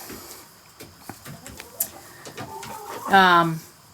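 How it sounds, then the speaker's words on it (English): Hens cluck and murmur nearby inside a chicken coop amid scratching and light knocks, ending in a louder, drawn-out squawk. "Got a bunch of chickens in here checking things out."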